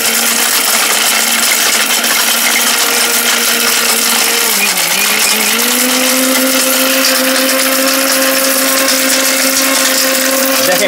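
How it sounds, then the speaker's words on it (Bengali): A high-power Japanese blender grinds hard turmeric with a loud, steady roar that dips briefly in pitch midway as the load shifts, then holds constant. "খুবই হাই কোয়ালিটি মানে একটা ব্লেন্ডার।"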